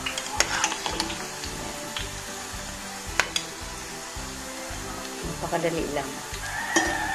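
Garlic and peanuts fry in a pan for adobong mani, a steady close sizzle broken by several sharp clinks and scrapes of stirring, with a voice briefly speaking over it.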